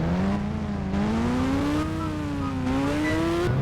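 Engine of a Ninja S2R motorbike in an Indian open-world mobile game, a steady loud synthetic whine that slowly rises and dips in pitch as it accelerates, with no talking.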